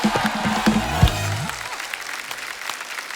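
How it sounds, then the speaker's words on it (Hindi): Studio audience applause welcoming guests on an Indian TV comedy talk show, loud clapping that starts under a host's voice and then fades to a softer, thinning patter. "जोरदार तालियां हो जाए हमारे मेहमानों के लिए"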